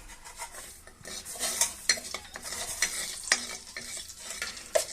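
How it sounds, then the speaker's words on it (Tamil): Crackling sizzle of mustard seeds spitting in hot sesame oil, with small pops and the scrape of a spoon stirring the pan. "1 ஸ்பூன் கடுகு போடுறோம்."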